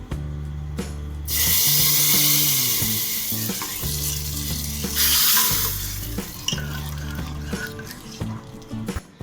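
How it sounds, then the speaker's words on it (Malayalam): Hot oil tempered with curry leaves is poured into a green gram curry, setting off a loud, close sizzle that swells and then settles into steady bubbling with scattered clinks. "ഇനി ഇത് കറിയിലേക്ക് ഒഴിച്ചെടുക്കാം."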